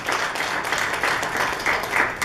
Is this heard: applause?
yes